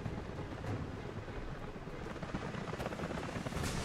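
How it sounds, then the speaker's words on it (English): Helicopters approach in the video game Rise of the Tomb Raider, heard as a dense, steady rotor rumble that fills the whole stretch without letup, with no talking. "helicopters are headed your way"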